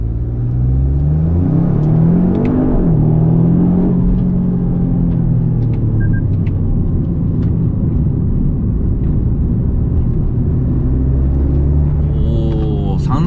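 A Lexus LBX MORIZO RR or GR Yaris in circuit mode with strong anti-lag pulls hard around a race circuit. The engine roar is loud and continuous, with rising and falling revs, close to the car.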